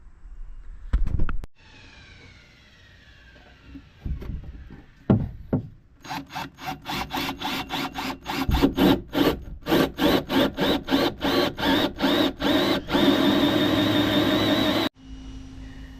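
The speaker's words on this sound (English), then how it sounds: "So let's drill some holes and get this pipe installed" A drill bores holes for PVC drain and wire piping through a DIY skiff hull, starting with scattered knocks and then settling into a long rhythmic grinding burst that cuts off abruptly, close with no talk.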